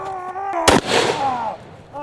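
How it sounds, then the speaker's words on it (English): Doomslayer Super Shotgun fired at imps in a video game: one loud, sharp blast followed by a roaring decay, with game music tones before and after. "I better take them out with my Doomslayer Super Shotgun."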